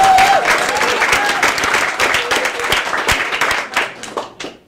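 A comedy club audience applauds a comedian, with sustained, fairly loud clapping and crowd noise that thins toward the end, punctuated by a few sharper individual claps.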